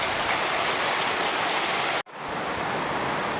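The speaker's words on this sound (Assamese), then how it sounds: "এয়া হৈছে ফাগুনৰ বৰষুণ আৰু প্ৰথম বৰষুণ বহুত দিনৰ মূৰত দিছে" Spring rain falls steadily in a dense, even patter on surfaces, close and continuous, with a brief cut in the middle before the downpour resumes.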